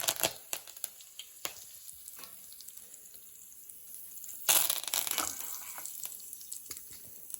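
Curry leaves dropped into hot oil with asafoetida for idli upma: scattered small clicks and spits, then a sudden loud sizzling burst that settles into a softer, steady hiss.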